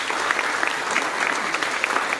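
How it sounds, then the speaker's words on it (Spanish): Loud audience applause for señor More at an honors ceremony in Ahuachapán, dense steady clapping from a crowd with sharper individual claps popping out near the front. "Démosle un fuerte aplauso a señor More."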